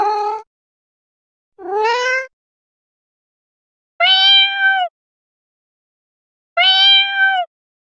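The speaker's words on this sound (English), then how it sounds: "Cat." A cat meows four times, each a drawn-out, tonal cry separated by pauses, close and clear with no other sounds.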